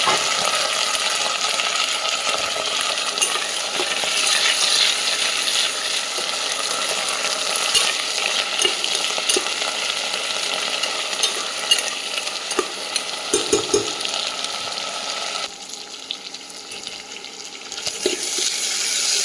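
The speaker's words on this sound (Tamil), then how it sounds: "பட்டாணி போட்டுறாங்க பட்டாணியும் கொஞ்சம் நேரம் எண்ணெயில் தவக்கணும்" Green peas frying in oil in a pan for a Tamil pea curry, a steady loud sizzle with scraping stir strokes and faint clinks, continuous and close, quieting slightly near the end.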